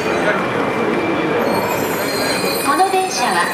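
Steady rumble of an E4 series Max Shinkansen pulling away inside Niigata Station, with high metallic whine and faint squeals rising over the hum, plus some background talk.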